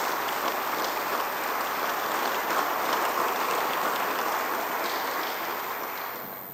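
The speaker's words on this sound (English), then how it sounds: "Please join me in giving all of our sponsors a round of applause" A lecture audience gives a sustained round of applause for the sponsors, dense and even throughout before tapering off at the end.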